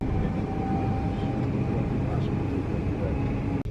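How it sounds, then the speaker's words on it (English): A train standing at Euston station in London, a steady low rumbling hum with station ambience, continuous and moderately loud, with a brief dropout near the end. "We've just got to the station and there's a train in."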